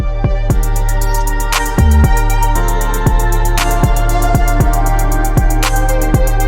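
A remade music beat with new drums: punchy kicks and crisp hi-hat ticks in a steady rhythm over a sustained synth bed and deep bass, loud and upfront after a short intro, no talking.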